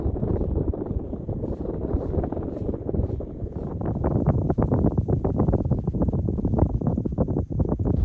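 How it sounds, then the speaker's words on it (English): Wind blows steadily at an Arctic snow camp in Norway at -40ºC. It buffets the microphone with a loud, continuous low rumble and gusty flutter that runs the whole way without a break. "I put the balaclava because the wind is blowing"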